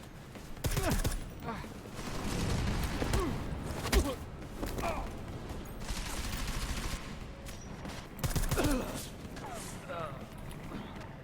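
Scattered gunshots and impacts during a firefight in the video game Deus Ex: Mankind Divided, fairly quiet bursts spread through the clip under game ambience and faint voices.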